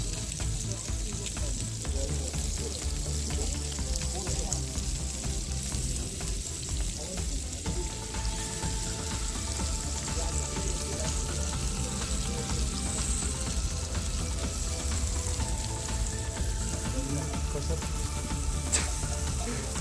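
Meat sizzles and fries steadily in a pot, a loud continuous crackle with occasional stirring scrapes throughout.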